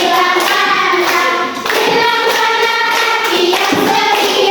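Hands clap along to a Sunday school song in rhythmic claps under loud sung melody with sustained voices, the clapping blending into the music and briefly dipping mid-phrase before resuming.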